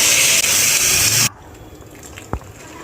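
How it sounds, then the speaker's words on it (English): About a liter of water poured into a pot of chicken haleem with soaked lentils, a loud gushing splash for just over a second that cuts off abruptly, followed by quiet room tone and a small clink. "add 1 liter of water and cover it with the lid"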